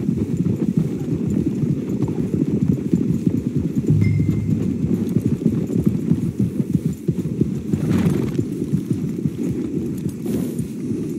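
Several horses walk with a dense, continuous clip-clop of hooves in the video game Red Dead Redemption 2, close and loud with a low rumbling undertone.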